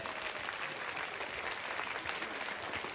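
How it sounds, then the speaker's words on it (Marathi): A crowd applauds at a Marathi public event, many hands clapping in an even, dense roar that holds steady from start to finish at moderate volume, with no voices rising above it. "सचिन वराळ पाटील यांच्यासाठी हात वरती करून जोरात टाळ्या वाजवा"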